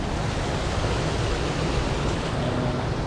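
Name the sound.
running water of a stream in Ubud, Bali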